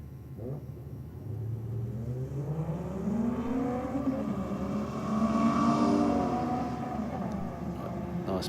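A manual Ford Falcon on a no-prep drag strip in Australia roars through a run, its engine note climbing through rising gears as the car pulls hard and steady, fairly loud and close throughout.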